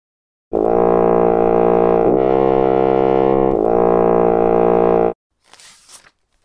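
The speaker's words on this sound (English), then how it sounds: "Horn." A horn plays one loud, steady, brassy note for about four and a half seconds with a slight wavering in the middle, then stops abruptly and leaves a brief soft noise.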